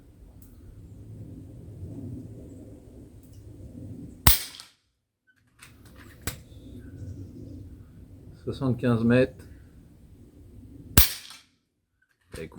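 Two sharp cracks from an FX Leopard Sniper .22 air rifle firing slugs at 75 metres, spaced several seconds apart, with someone speaking before and between the shots.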